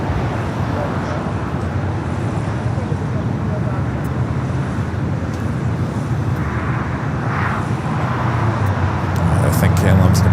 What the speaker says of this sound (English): Flight heading to SFO with that 737 at MAX 9